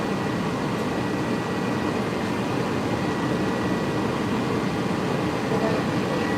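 Cabin of Disney's Monorail Red while riding, a steady broadband rumble and whoosh of the moving train with an even hum throughout and no talk.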